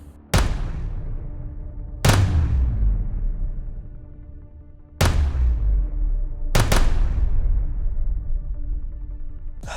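An Athena pistol fires doubles at a 20-yard target: sharp loud gunshots, three quick pairs and one single shot, each with a ringing echo that trails off between shots.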